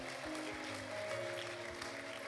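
A church congregation claps steadily and continuously, with high trilling ululation ringing over the dense clapping throughout.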